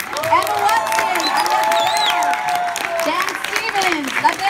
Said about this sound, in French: Je vous demande d'applaudir, s'il vous plaît, bien chaleureusement